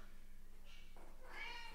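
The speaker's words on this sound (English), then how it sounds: "that is my cat. I think she wants to go in." A pet cat meows twice in quick succession near the microphone, the second call louder and more drawn out, with a steady low hum underneath.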